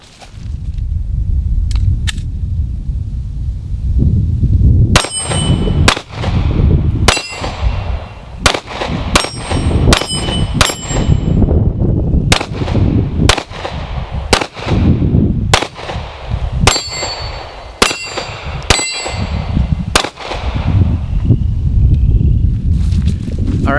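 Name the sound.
Canik TP9SF Elite pistol gunshots at the range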